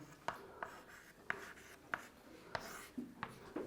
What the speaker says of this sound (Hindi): तो यहाँ पहले हम कुछ डेटा लिख रहे हैं आप लोगों के लिए